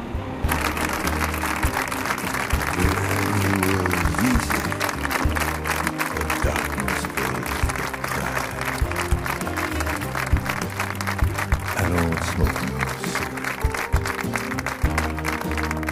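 Hundreds of people gathered at night in Lorca applaud steadily in support of a family, a dense continuous clapping that holds at a consistent level for the full stretch, with a faint murmur of voices mixed in.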